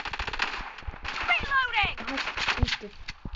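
Gunfire from a double-barrel gun in a mobile shooter game, heard as repeated sharp shots in a busy burst under game effects, with a voice talking over parts of it.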